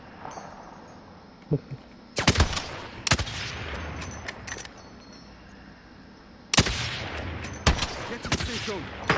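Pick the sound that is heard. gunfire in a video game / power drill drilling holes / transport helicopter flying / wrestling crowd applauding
gunfire in a video game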